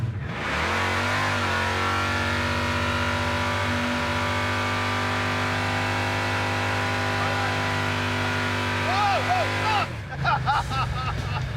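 The crop duster project car's engine roars in a long, loud, sustained rev during a burnout, holding steady near the listener before cutting off sharply, then voices talk.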